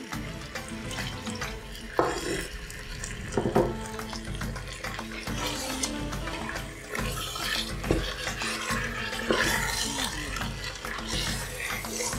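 Water running from a tap into a cooking pot holding lamb and chickpeas for Tunisian lamb couscous, a steady splashing stream under kitchen clatter and background music, with a few brief knocks.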